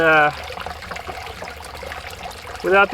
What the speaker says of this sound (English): The water certainly does run through a lot better without that